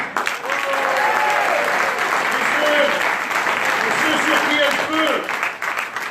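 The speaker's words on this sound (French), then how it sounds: "Je voudrais donc que vous saluiez par vos applaudissements cette jeunesse pleine de talent et de courage." A crowd at a political campaign speech in Marseille breaks into dense, sustained applause lasting several seconds, loud and steady, with scattered voices and calls rising through the clapping before it thins slightly at the end.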